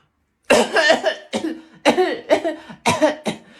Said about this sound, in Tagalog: May ubo kasi ako, tamo may sakit ako